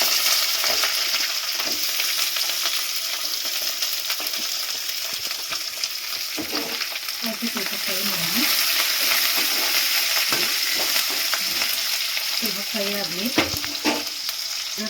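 Onion, garlic, ginger, coconut, tomato, coriander, mint and spices fry for a sprouted horse gram sambar with a loud, steady sizzle. Scraping stirs come through close by, and no one speaks.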